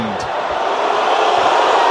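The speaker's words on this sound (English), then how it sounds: "Well, you can hear what the crowd think of that call." Basketball arena crowd during a Philippines versus Hong Kong game reacts to a foul call with a sustained, loud roar of voices, steady throughout with no single voice standing out.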